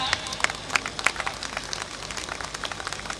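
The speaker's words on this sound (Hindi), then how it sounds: "जोरदार तालियों के साथ।" An audience at an Ambedkar Jayanti commemoration event applauds, a fairly close crowd of hands clapping in irregular bursts that thin toward the end, with no talk over it.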